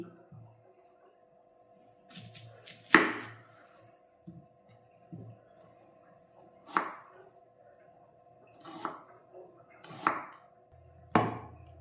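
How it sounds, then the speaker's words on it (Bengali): Onions being finely chopped with a knife on a board, a series of sharp separate chops spaced a second or more apart, close and clear over a quiet background. "এবার বন্ধু পেঁয়াজগুলো খুব সরু সরু করে আমি কেটে নিলাম।"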